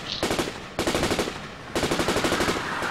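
Bursts of rapid enemy gunfire in GTA IV, a dense rattling automatic volley in three loud stretches separated by brief gaps, close and sustained with no talk over it.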